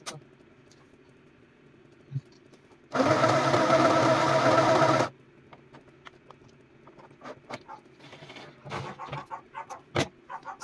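A portable sewing machine stitches in one loud, steady burst of about two seconds, with quiet handling noises and small clicks before and after.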